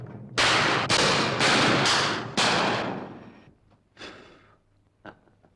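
Gunfire in a dramatic film scene: a rapid burst of about five loud, close shots in quick succession, each ringing out and decaying, followed by two fainter isolated reports after a pause.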